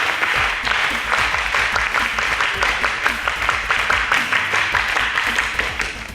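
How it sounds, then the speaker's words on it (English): Audience applauding two high school teams at a televised quiz competition, a dense, steady wash of many hands clapping, loud and sustained from start to finish. "Please give them the champ. Round of applause."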